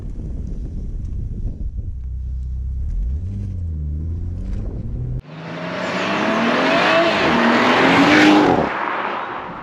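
A BMW M140i straight-six engine rumbling and revving at low speed, then the car pulling away with a loud rising surge of engine note and wind rush, close and building before easing off.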